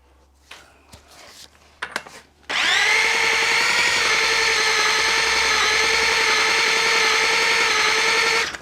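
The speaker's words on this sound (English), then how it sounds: "my drill's starting to protest, it's getting very warm" A few scattered knocks and rattles, then an overheating power drill starts up, whining steadily and loudly at close range until it cuts off at the end.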